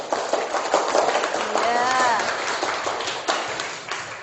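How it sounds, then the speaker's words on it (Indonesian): Students in a biology classroom give a round of rapid, dense applause that continues for several seconds, with a brief voice heard over the clapping. "Beri tepuk tangan."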